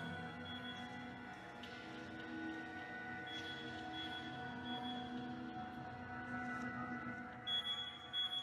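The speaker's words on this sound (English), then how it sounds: "It's just an alarm." Faint electronic alarm beeps sound amid a dense, murky game soundtrack in Dark Nights with Poe and Munro, thin tones recurring quietly beneath the ambient drone.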